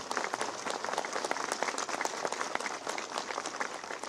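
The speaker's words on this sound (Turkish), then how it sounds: "Arkadaşlarımla kuvvetli bir alkış istiyorum." Audience applause at a Turkish civil servants' union event, brisk, crisp clapping from a crowd in a hall, dense and lively with individual claps standing out throughout.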